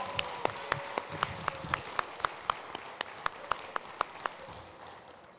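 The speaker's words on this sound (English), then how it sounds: "now we can clap for real." Sparse, evenly spaced claps ring out at a school board meeting, sounding like only a few hands clapping in a steady rhythm, faint against a quiet room and fading toward the end.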